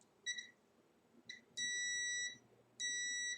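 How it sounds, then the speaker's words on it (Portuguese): Short electronic beeps from a multimeter in continuity mode, then two longer steady tones, sound clearly and close against a quiet background. "Dá para escutar o bip aí quando eu ponho aqui em continuidade"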